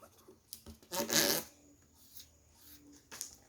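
Paper is folded for an origami tank, with a few close crinkling and rustling bursts, one louder crisp crease in the middle, and quiet gaps between.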